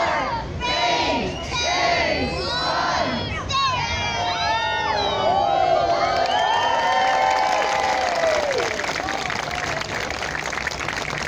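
A large crowd at the 2018 Foyle Maritime Festival shouts and cheers together, loud and sustained, voices rising and falling in a dense roar of yells.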